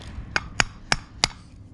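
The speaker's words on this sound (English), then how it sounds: "I'm going to give this a few light taps with a hammer" Four light hammer taps on a Nissan Xterra/Frontier distributor part, evenly spaced sharp metallic clicks heard up close in a quiet workshop.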